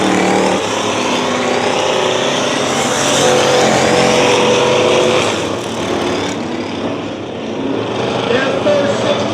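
Race cars roaring around the dirt oval at Dirtona Raceway in a 60-lap segment, a loud continuous wall of engine noise swelling and fading as cars pass, with an announcer talking over it.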